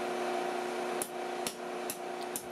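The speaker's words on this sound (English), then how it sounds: "I'm being careful not to hammer through and hit the hot cut hardy." Hammer blows on induction-heated steel being forged into a drive hook over a hot cut hardy, four sharp evenly spaced metallic strikes about half a second apart over a constant humming drone from the induction heater, with no talking.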